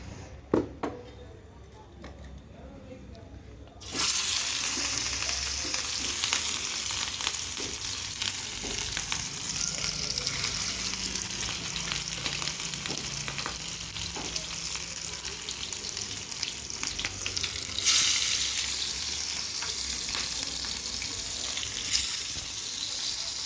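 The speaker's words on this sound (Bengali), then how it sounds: "এখন মাছটাকে ভাজি করি" Fish fries in hot oil in a home kitchen with a steady crackling sizzle that swells louder after a quieter start, broken by occasional clinks of utensils.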